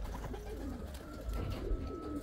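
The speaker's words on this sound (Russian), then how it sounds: "Вот голуби, вот их только выгнали, они уже тут как тут на яйца гоняют." White pigeons cooing softly near a dovecote, low throaty burbling calls repeating over faint background noise, fairly quiet.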